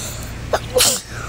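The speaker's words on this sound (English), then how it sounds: "I sneezed." A single sharp human sneeze in a Roblox gaming session, a short breathy intake followed by a bright, noisy burst, close and fairly loud over a quiet background hum.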